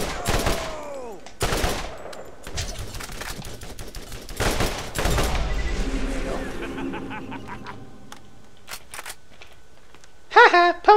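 Weapon fire in the video game Borderlands, using a Sentinel, comes as loud sharp bursts spaced through the scene over game effects and a busy mix, with a brief rapid flurry near the end.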